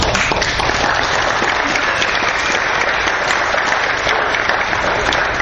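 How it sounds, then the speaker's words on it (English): A school board meeting audience gives a loud, dense round of applause that stays steady and continuous from start to finish. "please join me in giving our school board a well-deserved round of applause"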